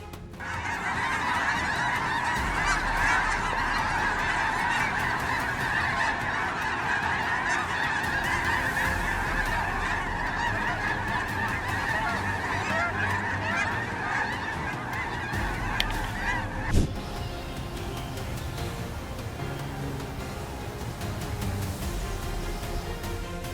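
A huge flock of migrating geese honks continuously, a dense overlapping chorus of calls that holds steady before suddenly thinning out late, leaving faint, scattered sounds.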